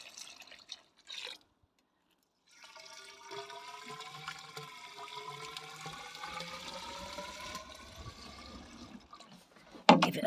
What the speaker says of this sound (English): I'm going to give it a water at the top.